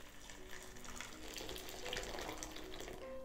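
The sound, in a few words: pouring boiling water into slow cooker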